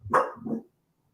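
A dog barks twice in quick succession, a sharp close bark followed by a lower, shorter one, then silence; no talking over it.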